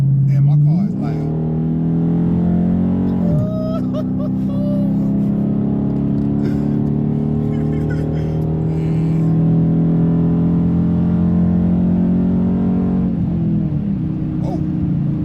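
A Dodge Challenger R/T with a 5.7 Hemi V8 is driven hard at night. The loud, deep exhaust drone climbs through the revs, with audible gear shifts and the engine note dropping and rising again, steady and close.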